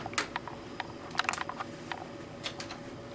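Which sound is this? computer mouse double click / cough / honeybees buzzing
computer mouse double click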